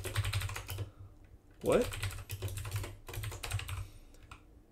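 Typing Rust code on a computer keyboard: a steady run of light, quick keystroke clicks in bursts with short pauses, close and fairly loud, with a brief spoken word in the middle.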